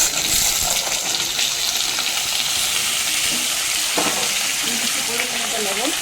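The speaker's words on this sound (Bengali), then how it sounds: "ফোড়নটা খুব ভালো মতো ভাজা হয়ে গেছে। ফোড়নটাতে খুব সুন্দর ফ্লেভার উঠছে। এরপর যে গ্যাসের ফ্লেমটা একটু কমিয়ে দিচ্ছি, তারপর ধুয়ে রাখা আলুগুলো দিয়ে দিচ্ছি এখানে।" Washed potatoes dropped into hot spiced oil tempering for a Bengali vegetarian potato chorchori, giving a loud continuous sizzle with some watery bubbling and stirring.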